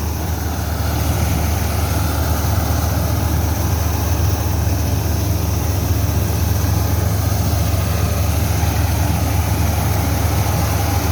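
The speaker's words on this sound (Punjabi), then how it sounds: "ਹੁਣ ਮੈਂ ਆਪਣੇ ਵੀਰ ਭਰਾਵਾਂ ਨੂੰ ਵਿਖਾ ਲਈ ਹੈ ਜਨਾਬ ਟਰੈਕਟਰ ਦੀ ਪਰਫਾਰਮੈਂਸ ਵੀ" An MF 260 tractor engine drives a maize sheller out in the fields, making a loud, continuous low diesel drone and mechanical rumble that stays steady throughout, close by, with no talk.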